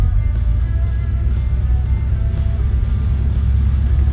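A 1953 Ford Crestline Victoria with a V8 and automatic transmission drives along, its engine a steady low rumble with faint road noise throughout, heard from inside the car with no talking.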